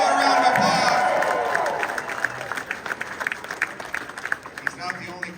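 Rally crowd in Woodstock, Ontario applauding and cheering, a dense wash of clapping with shouts at first, thinning into scattered individual claps toward the end.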